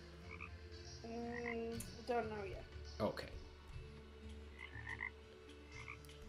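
Frogs in the Terraria video game croak in short repeated bursts, faint against a low game hum, while a person talks briefly over them.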